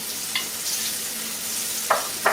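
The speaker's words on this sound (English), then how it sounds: "So now we're doing the chicken." Chicken fries in a hot pan, giving off a steady, close sizzle with a few sharp clinks of stirring scattered through it.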